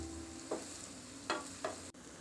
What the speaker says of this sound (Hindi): प्याज ब्राउन करेंगे।